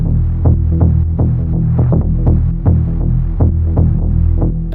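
A throbbing, distorted bass line from a dying, broken instrument pulses in a steady swung rhythm, loud and dense with a low droning hum underneath.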